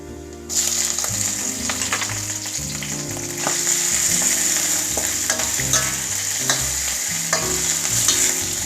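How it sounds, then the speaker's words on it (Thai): Shrimp stir-fried in a wok for shrimp fried rice, crackling in hot oil with a constant sizzle and rhythmic spatula scrapes and knocks, close and loud. "ผัดให้กุ้งสุก"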